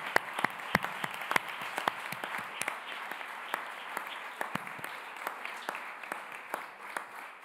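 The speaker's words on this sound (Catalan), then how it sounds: "Sisplau, primer els aplaudim a tots dos." Applause from the audience at the Catalan Chemistry Society awards ceremony for two award winners, scattered distinct claps standing out over a softer continuous patter, moderately quiet and steady.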